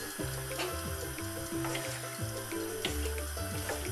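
Starchy pasta cooking water is poured into a pan of spaghetti with anchovies and cherry tomatoes, a continuous close splashing stream with a low tonal hum running underneath, and no talking.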